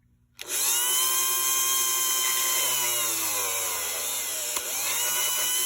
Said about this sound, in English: I'm literally just going to take this grinder